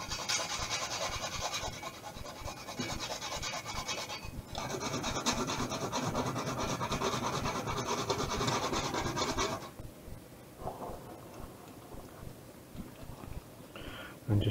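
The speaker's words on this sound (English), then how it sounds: "just remember to keep whisking because we did turn the temperature up there" A whisk scrapes and rubs steadily around a pan of parsley sauce seasoned with salt, pepper and nutmeg, a close rhythmic scratching that runs loud for about ten seconds, then thins to softer, intermittent strokes.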